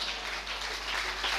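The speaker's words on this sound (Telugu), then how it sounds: "గట్టి చప్పట్లు కొట్టండి గట్టిగా." A church congregation claps loudly in a dense, continuous burst, with no voices over it.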